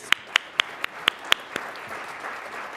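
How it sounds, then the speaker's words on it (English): Applause for sponsors at an Ohio higher-education innovation event: a handful of sharp, close claps ring out in quick succession, then settle into soft, diffuse crowd clapping that fades to a low hum. "Give them a big round of applause"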